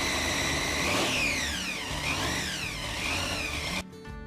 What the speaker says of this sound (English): Nothing like listening to a Hemi run.